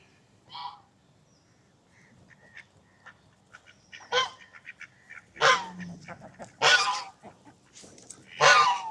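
Ducks and geese at Zoo Negara in Malaysia, including black ducks, give scattered honks and quacks at the zoo, some loud and close, with quieter calls in between.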